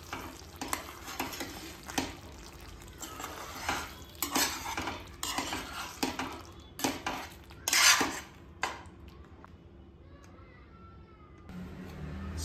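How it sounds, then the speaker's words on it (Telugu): A spoon scrapes and clinks around a pan of dum aloo made with baby potatoes, the stove just switched off, in a quick irregular rhythm of metallic knocks and scrapes that fades to faint sizzling near the end. "స్టవ్ ఆఫ్ చేసి ఒక్కసారి కలుపుకుందాం."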